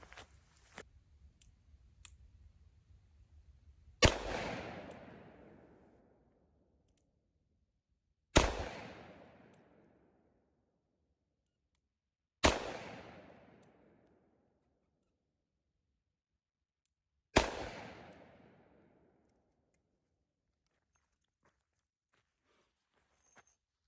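Four sharp shots ring out from a Smith & Wesson M&P 340 .357 revolver, spaced several seconds apart, each with a long decaying echo across a quiet range.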